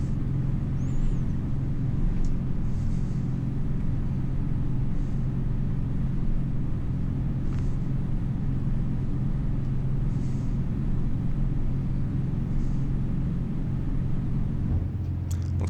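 A boat's engine rumbling steadily while cruising, heard from inside the warm cabin, a constant low drone with no talk.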